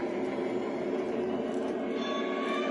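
An O scale model train locomotive runs steadily along its track, a continuous close whirring rumble with faint metallic rattle, with no voices.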